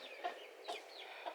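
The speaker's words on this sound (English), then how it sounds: "Silly chicken." A backyard chicken gives short, faint clucks, three soft pulses spaced evenly apart, with no voices.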